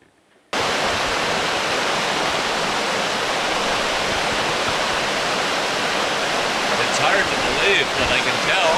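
Foster Falls roars as a dense, steady waterfall, loud and close, starting abruptly after a brief quiet moment and continuing unbroken throughout.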